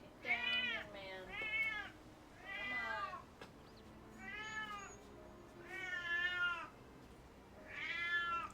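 A hungry cat meows repeatedly for its dinner, about six drawn-out, rising-and-falling calls at steady intervals, close and clear against a quiet room.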